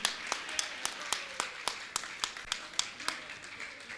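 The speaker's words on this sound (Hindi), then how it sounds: "जोरदार जोरदार ताली बजाकर इनका सम्मान करें" An audience at a religious gathering claps in a steady, rhythmic beat of distinct, moderately loud claps that continue throughout.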